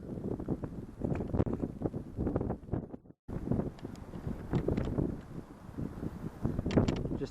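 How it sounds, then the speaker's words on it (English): Strong wind buffeting the microphone on a lakeshore while fishing from the bank, a loud, gusty rumble with irregular blasts and a brief drop-out midway. "Man, this wind is brutal."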